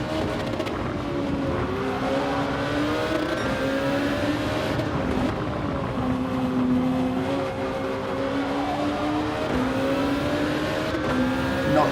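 A Honda NSX race car's engine in Gran Turismo 7, droning steadily at high revs with its pitch rising and falling as it shifts through gears, loud and continuous the whole time, no talking.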